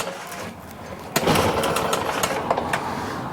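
A Stihl BR800X backpack leaf blower engine runs loud and steady near at hand, pushed toward full throttle with the choke off, a brief hitch early before it settles into a continuous raspy drone.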